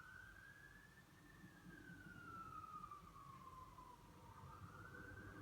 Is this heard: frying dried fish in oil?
no